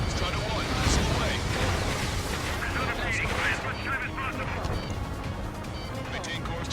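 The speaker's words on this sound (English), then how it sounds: "Strider 1, missile away." A missile launches from a fighter jet in Ace Combat 7 amid loud, continuous roaring combat noise, with rumbling blasts and gunfire-like crackle filling the scene throughout.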